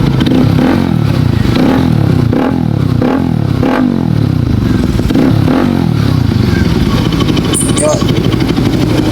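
An RS200 motorcycle fitted with an Akrapovic exhaust pipe revs repeatedly in loud, rhythmic surges over a steady engine rumble, close to the listener, with a voice talking over it.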